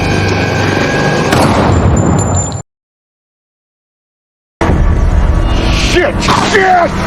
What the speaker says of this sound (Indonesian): Peluru satu-satunya yang Rosita miliki secara kebetulan mengenai Lucille.